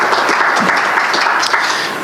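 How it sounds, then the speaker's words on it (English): Steady applause from a crowd at a legislative forum, dense clapping sustained throughout at a strong, even level. "Let's give Senator Brown and Senator Young a round of applause for appreciation."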